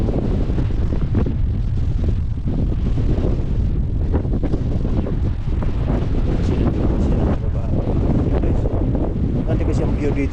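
Strong gusty wind outdoors at Yonge and Steeles in Toronto roars and buffets the microphone continuously and loudly, with a voice talking beneath it.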